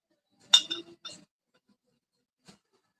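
A 1.5 ounce glass clinks sharply as liquor is handled: a cluster of bright glassy taps close together near the start, then silence and one last soft tap.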